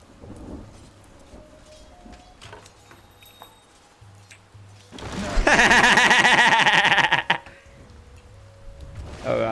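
A Thunder Strike spell in Dota 2 cracks out loudly, a dense crackling electrical burst lasting a couple of seconds, set against quieter game effects before and after.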